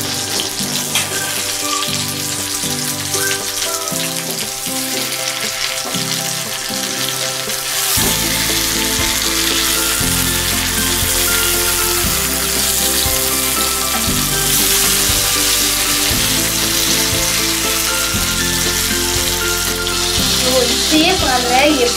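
Chicken tangdi kebab frying in butter in a pan as the pieces are flipped, a loud, continuous sizzle with a steady hum underneath that grows fuller after the turn.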